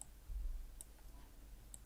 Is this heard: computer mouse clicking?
yes